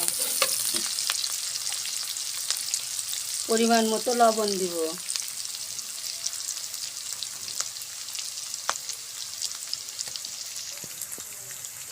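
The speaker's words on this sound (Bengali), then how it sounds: "আমি সুন্দর করে একটু নাড়াচাড়া করে পেঁয়াজটাকে ভাজা ভাজা করে নেব।" Onions with slit green chillies fry and get stirred in a pan, a constant soft sizzle with light scraping, while someone speaks briefly over it partway through.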